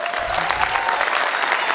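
A crowd at a college commencement ceremony applauds steadily, dense continuous clapping filling the short span without talk.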